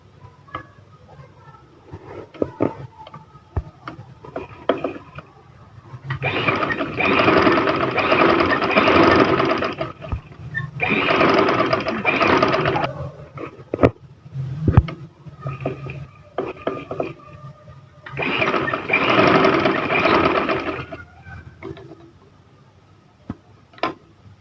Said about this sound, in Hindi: चलिए आपको सिलाई लगा कर दिखाते हैं।